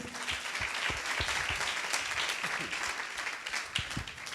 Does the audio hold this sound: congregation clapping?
yes